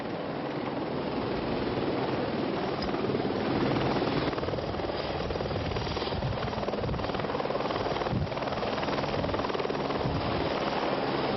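A helicopter at a park in Sardinia fills the air with a loud, continuous rotor and engine roar, close by and unbroken throughout.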